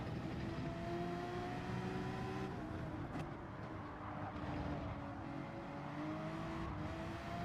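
Race cars, including a Porsche and a McLaren, in the Gran Turismo 7 video game, a steady droning engine whine with shifting pitch, faint and continuous with no talking.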